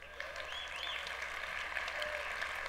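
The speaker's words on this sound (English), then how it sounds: "Please don't applaud" Steady audience applause fills the room at a panel session, moderate and continuous, with a few faint voices rising above the clapping.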